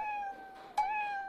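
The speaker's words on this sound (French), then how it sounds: "Des chats." A cat meows in a short, clear, drawn-out call with a slight break partway through, close and alone with no talking.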